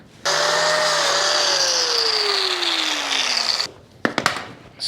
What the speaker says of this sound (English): That's got to be ground. I got to grind that real quick.